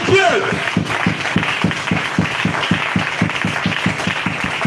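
Church congregation applauding in rhythm during a French-language prophetic prayer service, steady clapping at an even beat, close and loud, with a voice over it at the start and a crowd murmur underneath.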